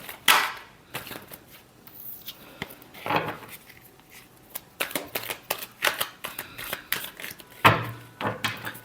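A deck of tarot cards shuffled by hand, with repeated quick riffling bursts and soft slaps separated by brief pauses, close and clear.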